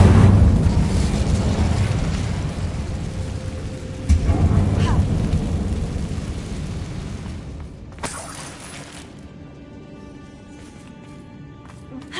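Incendio fire spell cast in Hogwarts Legacy, a booming fiery rumble with a sharp burst partway through, trailing off before a bright crackling flare near the end.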